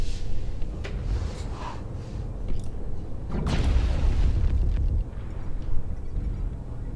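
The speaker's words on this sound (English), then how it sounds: "Artillery strike online." Artillery strike explosions in MechWarrior Online thump and boom repeatedly, deep low rumbles with a few sharper bursts spread across several seconds, heavy and loud against a continuous roar of battle.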